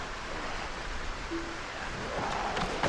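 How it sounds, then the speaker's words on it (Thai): Steady rain falls in the Project Zomboid video game, a dense even hiss of downpour throughout, with a faint brief tone partway through. "ฝนตกแรงขึ้นเรื่อย ๆ"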